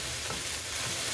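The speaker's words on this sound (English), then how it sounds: "Your meat's still browning" Meat browning in a pot gives off a brief, even sizzle that is close and moderately loud, with no voices.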